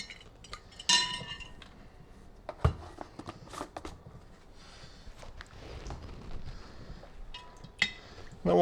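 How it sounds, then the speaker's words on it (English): A spoon stirs salt into warm water in a bowl, giving scattered light clinks and taps against the bowl at an uneven pace, quiet and close. "Just want to mix it around so the salt dissolves into the water."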